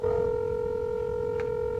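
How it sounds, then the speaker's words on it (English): Telephone number being dialed, a steady tone holding throughout with a brief keypad beep near the end, loud and close. "called the phone numbers they left with the company"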